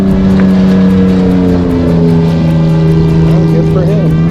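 A Baja 1000 off-road race truck rolls through the pit, its engine a loud, steady, smooth drone with a deep held tone that slowly shifts pitch, close by throughout.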